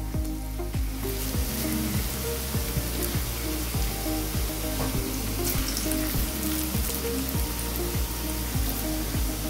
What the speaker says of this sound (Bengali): পুরো কড়াটায় তেলের মধ্যে দিয়ে দিলাম এইভাবে।